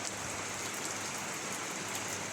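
Heavy rain pours down steadily near a village feast gathering under a rigged canopy, a dense, even hiss with no pauses and no voices.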